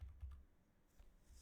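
Soft keystrokes tap on a computer keyboard at a desk, a few quick clicks near the start and a couple more later, faint and close, with no talking.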